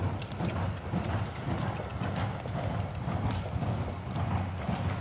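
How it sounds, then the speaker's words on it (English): A young colt is walked along, its hooves making a steady, even clip-clop at moderate distance, with no talking. "can we see the horse move?"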